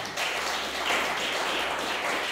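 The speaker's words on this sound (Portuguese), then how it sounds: "Louve a Deus com aplauso." A church congregation applauds, dense continuous clapping from many hands filling the room at a steady, moderate level.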